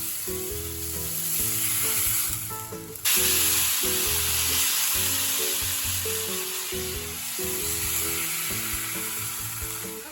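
Stewing beef sears in a pan with a steady, fairly soft sizzle throughout, while quiet tonal background music plays underneath and no one speaks.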